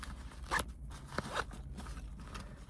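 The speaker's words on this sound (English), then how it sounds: "nice zipper." Inside a car, someone unzips the zipper on a DJI Mini Mic 2 carrying bag. The zipper makes a few short, quiet rasping pulls close by, with no talking.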